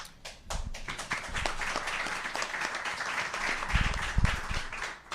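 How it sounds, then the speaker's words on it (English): Audience clapping rises quickly and holds as a steady, moderately loud ovation for several seconds at a Florida property tax event, fading toward the end, with no talk over it. "I'm sure the clapping was for him, not for me"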